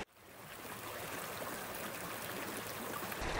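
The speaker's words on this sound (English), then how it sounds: "This is running water along here." A stream of running water along California's Central Coast makes a steady, soft broadband rush, quiet and continuous throughout, with no voices.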